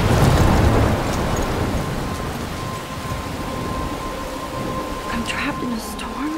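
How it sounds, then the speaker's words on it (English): A thunderstorm in the game Life is Strange: steady heavy rain hisses throughout, with a low thunder rumble at the start that fades. A faint voice is heard near the end. "I'm trapped in a storm?"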